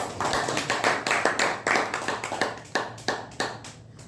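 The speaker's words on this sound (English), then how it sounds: "Let's give him a round of applause." An audience at a Toastmasters club meeting claps for a speaker coming on stage, a lively stream of individual claps at close to moderate range, thinning out toward the end, with no voices.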